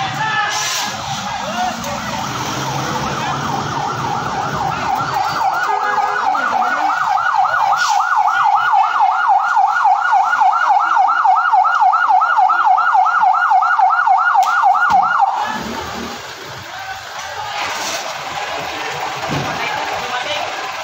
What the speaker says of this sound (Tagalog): Ayan na. Diyan na yung bumbero.